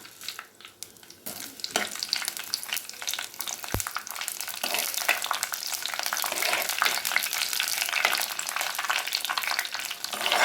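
Fennel seeds spluttering and crackling in hot sesame oil over a medium flame while tempering for a Tamil chicken kulambu, a dense continuous sizzle with scattered sharp pops and a brief stir, close and steady throughout.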